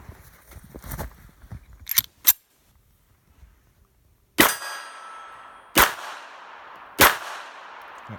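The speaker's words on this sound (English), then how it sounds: "take another 3 shots through this little thing" A Spanish Ruby pocket pistol fires three sharp, loud shots, each clearly separated by about a second and a half with quick decays, after a few quieter clicks and metallic clangs of handling.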